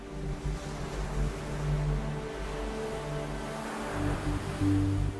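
Ocean waves break on a Hawaiian coast in a steady, full-bodied roar of surf that swells slightly at times, with faint sustained tones underneath.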